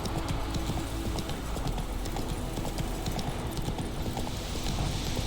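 Roach the horse from The Witcher 3 clip-clopping steadily, hooves striking in a continuous close rhythm that runs alone throughout.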